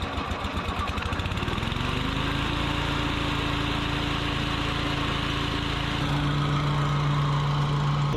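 A Toro TimeMaster walk-behind lawn mower starts up and settles into a steady, loud engine drone that runs continuously and close by, with its pitch rising slightly near the end and no talking.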